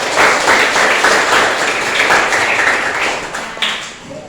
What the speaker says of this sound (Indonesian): tepuk tangan buat Anugrah